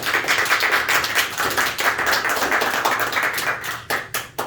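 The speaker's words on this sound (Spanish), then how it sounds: "Vamos a dar un aplauso al Señor Jesús." A church congregation bursts into lively applause, dense rapid clapping close and loud that carries on for several seconds before thinning into a few last scattered claps.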